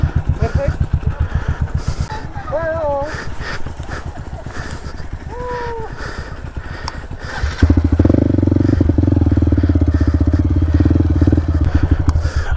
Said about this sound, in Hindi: तो स्लो बाइक अब उतारनी पड़ेंगी यहाँ पे चढ़ाई के पास